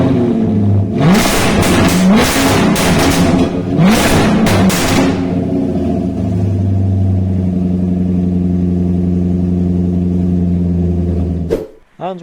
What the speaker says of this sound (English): This is what a Jaguar F-Type sounds like with no exhaust.